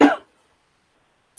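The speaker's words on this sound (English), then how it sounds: "As I cough" A single sharp cough bursts out at the start, close and loud, then quiet follows with a brief faint sound at the very end.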